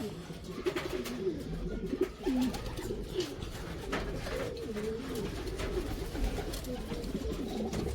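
Pigeons coo repeatedly at a loft, several soft rolling calls overlapping near and at moderate volume, with faint background noise.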